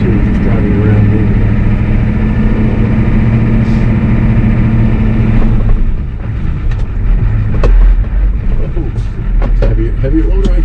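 A heavy loader engine runs steadily with a trailer in tow, holding a loud, continuous low rumble as it drives around, then easing slightly and turning rougher with knocks and rattles toward the end.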